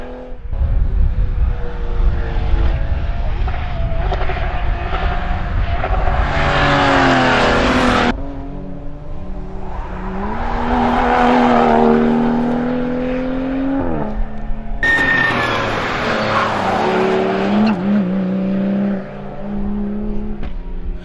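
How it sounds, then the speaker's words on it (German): Race cars, including a BMW and a Porsche, scream past at high speed during the Colmar-Berg race in Luxembourg, engines rising and falling in loud repeated passes with sharp gear changes. "am fünften der Jean-Louis Dumont mit BMW"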